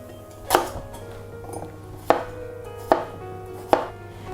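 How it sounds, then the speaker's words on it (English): A knife chops potatoes and carrot on a board in four sharp, separate knocks spaced about a second apart, close by against a quiet kitchen background. "We'll also peel 2 small potatoes and half a carrot."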